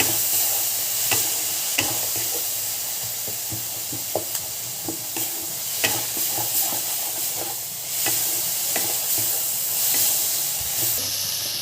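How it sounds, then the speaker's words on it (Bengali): Shrimp frying with vegetables in a pan for white sauce pasta, making a loud continuous hiss and sizzle close by, broken by scattered ticks and scrapes of stirring, with no talking. "এবার এই ভেজিটেবলসের সঙ্গেই চিংড়ি মাছটা ফ্রাই করে নেব।"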